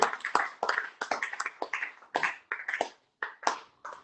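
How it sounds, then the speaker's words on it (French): Church congregation clapping to praise God, a series of sharp, fairly close hand claps in an uneven rhythm, with brief pauses between bursts. "Applaudissons pour la gloire de Dieu."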